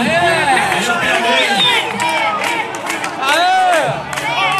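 Organized supporters at an amateur football final in São Paulo's east zone cheer and shout loudly and continuously, a dense crowd roar with excited calls, close and filling the whole moment.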